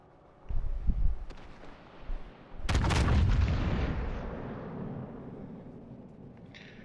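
Warship main guns firing in World of Warships Legends: a couple of muffled thuds, then a loud heavy salvo boom that rolls out into a long decaying rumble, with no voices.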